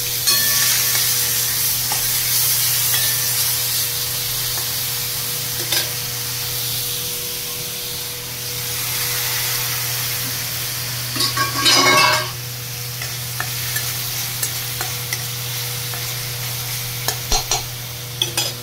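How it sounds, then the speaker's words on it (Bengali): Onion and tomato paste sizzling in a hot pan while being stirred, a steady close frying hiss with occasional scraping strokes and a brief louder burst partway through. "পেঁয়াজ আর টমেটো বাটাটা দিয়ে দিলাম।"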